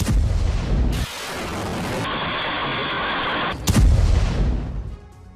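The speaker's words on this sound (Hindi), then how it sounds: "दक्षिणी गाजा की तस्वीर आपके सामने, जहां पर भीषण बमबारी को अंजाम दिया गया" Heavy bombardment in southern Gaza: dense, loud rumbling blasts and crackling bursts fill the span, with a sustained roaring wash in the middle before another strong boom near the end.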